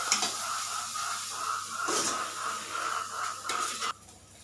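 Steady sizzling and hissing of onions frying in a pan, with a couple of louder stirring scrapes, close and continuous before it cuts off.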